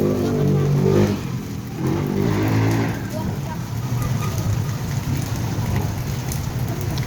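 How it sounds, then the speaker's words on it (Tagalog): Heavy rain pours steadily onto surfaces outdoors in a downtown street, a dense, loud hiss with a low rumble of passing traffic beneath it, and no one talking. "Sobra guys, maulan."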